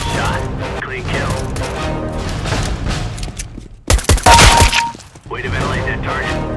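A sudden burst of loud gunfire in a live-streamed shooter game, a rapid cluster of close cracks and crashing impacts lasting about a second, set amid constant game sound and voices talking.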